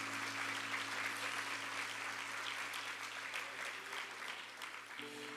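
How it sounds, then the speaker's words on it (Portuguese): A church congregation claps for its worship group, dense sustained applause that stays loud and even throughout, with a low steady hum beneath and a slight drop near the end. "Aplauda ao Senhor por esse grupo de louvor maravilhoso."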